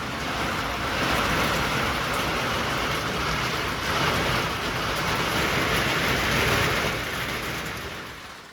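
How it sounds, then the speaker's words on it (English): Steady rain falls while the sun shines in the Colorado mountains at a tiny log cabin site, a dense, continuous hiss, fairly loud and even throughout. "Raining with the sun shining."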